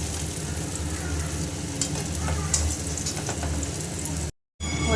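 Steamed jackfruit pieces sizzle and fry steadily in hot oil in a kadai, a continuous close crackle with occasional stirring scrapes, cut by a brief dropout near the end.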